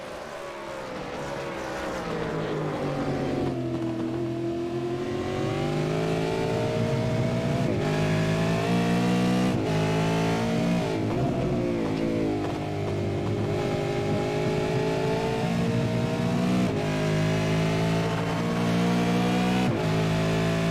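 V8 Supercars race cars in a sim racing game at Virginia International Raceway, heard as a loud, continuous engine roar that rises and falls through revving and gear changes as the cars brake into a corner, with no talk.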